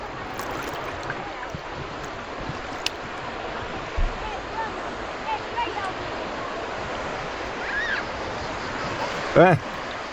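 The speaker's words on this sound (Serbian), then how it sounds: "Talasi stalno onako lagano zapljuskuju obalu i oni daju neki šum specifičan svemu tome." Gentle sea waves wash steadily against a beach shore at Potos, Thasos, Greece, in a continuous broadband hush, with a faint breeze and a few brief distant sounds near the end.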